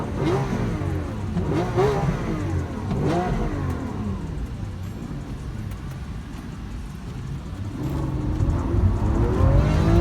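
A Lamborghini's engine revs and roars on launch control in sustained, loud waves that climb and fall, close by, with no talk over it.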